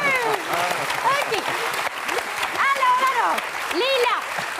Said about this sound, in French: On applaudit le monsieur!